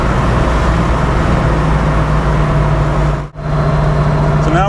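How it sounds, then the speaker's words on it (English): A car cruising at about 60 mph in fifth gear gives a loud, steady engine drone with road and wind noise, briefly dipping into near silence once before resuming. "cruising about 60 miles an hour in fifth gear"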